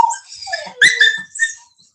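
A Cane Corso puppy whimpers in short, high, wavering cries close by, with a sharper yelp in the middle, and no talk over it.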